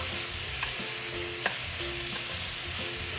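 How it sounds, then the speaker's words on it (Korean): Spicy octopus and its seasoning are stir-fried in a pan, with steady sizzling under a few scraping stirs of a utensil. "양념 잘 풀어서 싹싹 볶아주세요"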